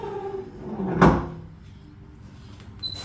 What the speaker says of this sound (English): One more check with the tailgate.